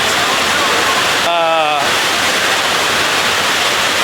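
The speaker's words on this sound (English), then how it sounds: "reporting live in a torrential downpour" Torrential downpour drenching a car show event, a steady dense roar of heavy rain filling the whole clip, briefly interrupted by a short voiced tone in the middle.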